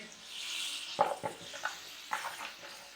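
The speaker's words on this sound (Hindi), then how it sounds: "अब हम इसमें डालेंगे ये गाजर, जो हमने इसको उबाला था पहले।" Boiled carrots dropped into a pan of fried masala set off a soft sizzle, broken by a few sharp splattering bursts and stirring clatter as the pieces hit the hot oil.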